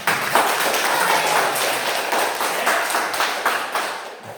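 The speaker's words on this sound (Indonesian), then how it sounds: "Kasih tepuk tangan untuk kita semua." A classroom of students claps hands together after a lesson, a fairly close, busy patter of claps that thins toward the end.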